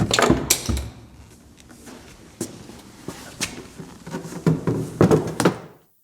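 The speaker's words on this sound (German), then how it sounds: "jetzt werde ich die Stoßstange entnehmen" Removing the rear bumper from a Mercedes W201 190D: a series of irregular plastic knocks, scrapes and thumps close by, clustered at the start and again toward the end before falling silent.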